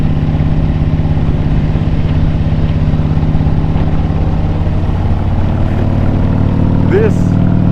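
A Harley-Davidson Street Glide with a 124 cubic inch Zipper's Performance engine is ridden along an open road, making a loud, constant low engine rumble mixed with heavy wind roar throughout.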